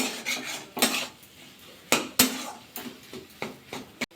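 A spoon stirs cauliflower filling in a pan with repeated metallic scrapes and clinks in irregular bursts, close and fairly loud, with no voices.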